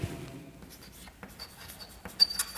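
Marker or chalk writing on a board during a chemistry lecture on DNA nucleotides: faint, soft scratchy strokes in short bursts with a brief louder tap near the end, no talk.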